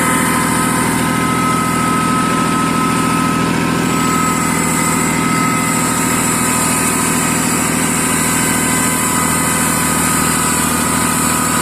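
A loud, steady tractor engine drones and vibrates throughout at close range, rumbling without pause or change in pace.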